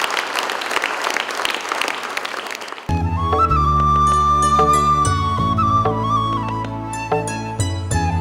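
Applause from an audience welcoming a guest to the stage at a live event, a dense, close burst of clapping that stops abruptly after about three seconds as sustained music starts and carries on to the end.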